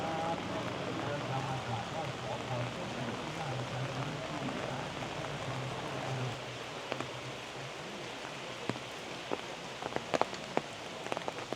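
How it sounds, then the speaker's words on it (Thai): Steady rain falls on the walkway at Kham Chanod, the island shrine in Udon Thani, a dense continuous patter with a few sharper drips toward the end, as a voice speaks over it. "วันนี้ฝนตกด้วยนะคะ"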